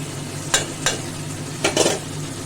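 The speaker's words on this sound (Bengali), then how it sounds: "এখন আমি যে মশলাটা করে রেখেছিলাম দিয়ে দিলাম আর সাথে গুঁড়ো মশলা দিয়ে দিলাম হলুদ জিরে ধনে" Spice paste with turmeric, cumin and coriander powder frying over fried potatoes in a pan for vegetarian aloo dum, under a steady low sizzle with four close, scraping stirs in two pairs.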